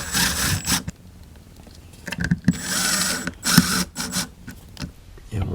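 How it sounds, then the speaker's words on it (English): A USB wall outlet being screwed back into its electrical box, with bursts of scraping, ratcheting screw turns and small mechanical clicks separated by short pauses, close and moderately loud. "we're going to go ahead and screw this back into its position"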